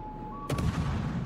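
Naval gunfire in a World of Warships video game: a single sharp gunshot-like boom bursts over a steady background hum and tone, followed by a rumbling tail.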